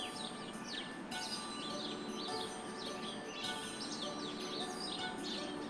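Garden birds sing in winter with repeated chirps and short twittering phrases at moderate distance, steady throughout over a soft, constant background hush.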